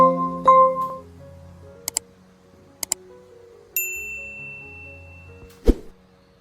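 Bright notification-bell dings ring out in a short series of separate chimes, with a few soft clicks and a sharper final tap over quiet background tones.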